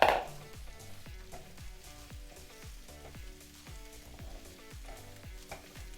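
Butternut squash rice sizzles and fries steadily in a pan, with faint rhythmic clinks or stirring beneath a soft continuous crackle after a brief louder start.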